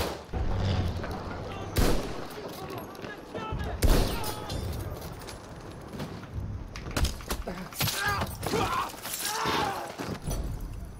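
Repeated bursts of Battlefield 1 gunfire, loud and close, with sharp impacts scattered through the clip over a busy background.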